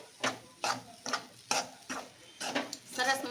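Spoon stirring a dry kachori filling of spices and amchur powder in a pan, about six rhythmic scraping strokes close up, alone with no talk.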